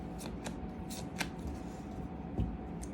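Tarot and oracle cards being drawn and handled, with light papery flicks and soft slides under a steady room hum, close and quiet, no one talking.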